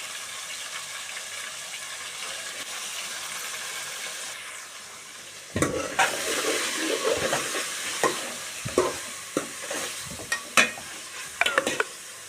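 Chicken for a drumstick chicken curry is stirred in a sizzling pan: a soft steady frying hiss, then louder scraping and clattering stir strokes at an uneven pace, close up with no talk.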